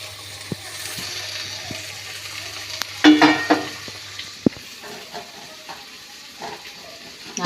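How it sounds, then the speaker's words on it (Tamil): Avarampoo flowers and tomato frying in oil with a steady low sizzle, broken by a few louder scraping stirs near the middle and scattered clinks of the spoon against the pan. "நீங்கள் இந்த ஆவாரம்பூ வந்து எண்ணெயில் பொரியல் மாரி போட்டுக்கணும்"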